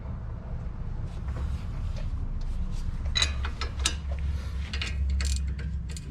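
Ratcheting wrench clicks and mechanical turning while the lower strut bolts are loosened on a Jeep Renegade during a 2-inch lift install, a steady run of close metallic ratchet sounds over a low background hum, with no talking.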